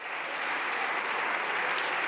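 Sustained applause from a parliamentary chamber, an ovation of dense, steady clapping that fills the space loudly and evenly throughout, with no speech over it.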